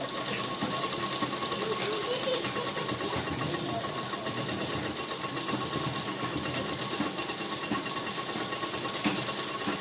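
A sewing machine runs steadily, stitching pant fabric with a continuous rapid mechanical whir and clatter, close and even throughout.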